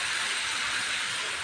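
Paneer hits a hot frying pan with a steady, broad hissing sizzle, moderately loud and even throughout, with no voices.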